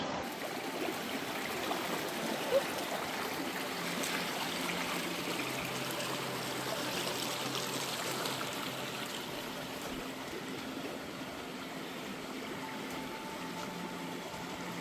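Creek water flowing on a hiking trail in the Perth Hills, a continuous close babbling stream that stays even and unbroken throughout.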